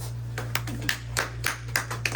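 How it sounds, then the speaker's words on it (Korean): Sparse hand clapping from a small audience at a special lecture, a handful of distinct irregular claps over a steady low electrical hum, fairly faint. "박수!"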